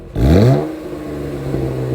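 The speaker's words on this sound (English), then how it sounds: "let the engine howl." A Chevrolet Camaro rental car's engine revs through its dual-mode performance exhaust, a short loud rising roar that falls back to a steady, droning idle.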